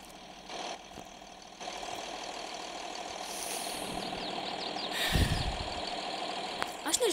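A tractor engine rumbles steadily in Farming Simulator 23, idling and running at medium volume, with game clatter and brief louder bursts.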